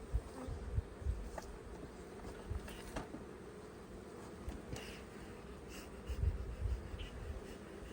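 Honey bees buzzing around hive frames during a hive inspection, a faint droning hum with occasional nearby bees passing close and soft handling clicks.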